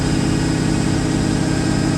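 A Corvette C5 Z06 engine runs on a dyno, held steady near 2000 RPM, giving a loud, continuous low drone with no voices over it.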